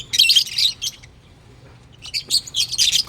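Small birds chirp in rapid, high-pitched bursts close by, pausing briefly before another flurry of twittering.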